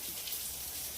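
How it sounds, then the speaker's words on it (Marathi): Steady rain falls throughout as a continuous, even hiss of drops on surfaces, with no voices or other sounds standing out. "आता पाऊस चालला"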